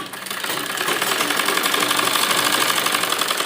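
A sewing machine runs a double line of stitching around the curved seam of a circular umbrella palazzo, its fast, even needle rhythm close and loud after a short start.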